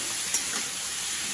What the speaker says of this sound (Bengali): এবার মশলা দিয়ে কষানো হবে